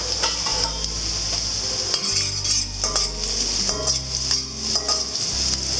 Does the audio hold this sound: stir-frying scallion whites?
yes